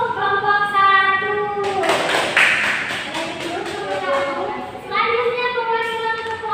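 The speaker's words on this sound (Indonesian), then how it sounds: "tepuk tangan dulu untuk kelompok 1" Classroom applause for a student group, a short burst of clapping from several children rising over chatter and a bright tonal background sound, with voices continuing before and after.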